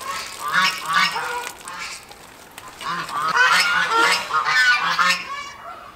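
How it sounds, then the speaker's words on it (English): Geese honk repeatedly on a farm, loud nasal calls arriving in two bursts of overlapping cries with a brief lull between, close by and without talk. "since the geese are down here"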